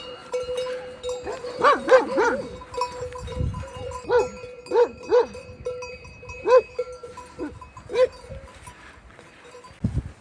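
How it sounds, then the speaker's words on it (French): A farm dog barks repeatedly at a hiker on a summer solo trek in the Alps, sharp barks coming in uneven bursts over roughly ten seconds, fairly close, against faint outdoor background noise. "Le chien m'a bien aboyé dessus."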